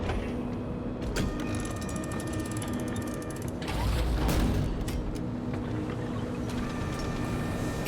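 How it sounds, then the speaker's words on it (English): A spinning industrial exhaust fan in the video game Beyond a Steel Sky churns with steady mechanical whirring, rhythmic ratcheting clicks and a sustained tonal hum, growing louder briefly midway. "Industrial fumes pumped out of the spinning exhaust fan."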